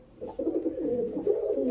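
Male pigeons coo close by, a low rolling throaty call repeating steadily without pause.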